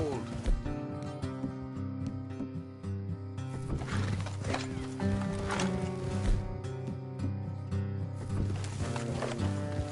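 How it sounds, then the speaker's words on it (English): Horses move along in Red Dead Redemption II, with hoofbeats and snorts blended into a layered music bed while characters talk over them. "Let's leave the horses here and go the rest on foot."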